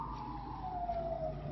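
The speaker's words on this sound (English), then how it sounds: "Here's Siren" A siren wails faintly in the distance, one drawn-out tone slowly falling in pitch over a low background rumble.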